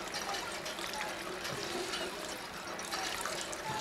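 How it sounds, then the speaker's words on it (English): Water pours and trickles steadily while purified water is made in Fallout 4, a continuous soft liquid hiss with no voices. "I can just make purified water."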